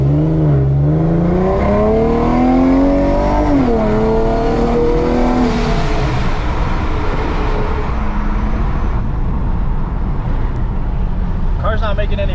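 An Infiniti G37 with a VR engine revving hard under boost, its pitch climbing and dipping in strong sweeping pulls, loud and close, with a rough rumble under the rises.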